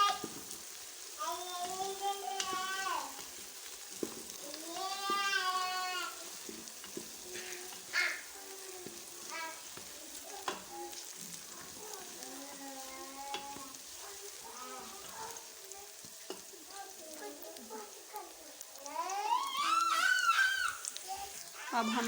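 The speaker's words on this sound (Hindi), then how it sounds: "लहसुन को हम 2 से 3 मिनट के लिए" Chopped green garlic fries in a pan with a soft sizzle and occasional stirring, heard under a woman's speech, with bird calls in the background.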